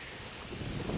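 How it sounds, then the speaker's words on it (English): Wind buffets a microphone outdoors in a steady broadband rush that swells louder toward the end, with no voices. "you can tell it's pretty windy. Hopefully that's not messing up the audio too bad"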